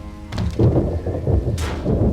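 Rain and thunder in the video game Max Payne 2: a loud, close crack and rumble of thunder over a steady wash of falling rain, with no voices.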